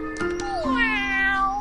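Cartoon cat meowing, a single drawn-out, close meow with a pitch that bends and slides, clear against a quiet background.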